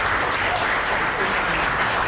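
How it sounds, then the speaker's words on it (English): Audience applause at the opening of a new Kawasaki showroom in Thane, a steady wash of many hands clapping continuously at moderate loudness, with some talk underneath. "So again, round of applause."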